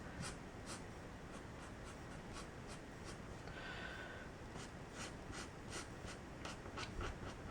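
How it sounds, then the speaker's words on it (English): A cheap alcohol marker from Five Below with a bullet nib colours leaves on paper, giving a steady, close scratchy scribbling with repeated rhythmic strokes over a low background hiss. "I also really don't like that the bullet nib makes that sound."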